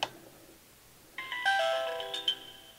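HAZA PR800 trail camera device sound at its medium setting, a bright electronic chime of layered tones lasting about a second after a short click, fairly loud and alone.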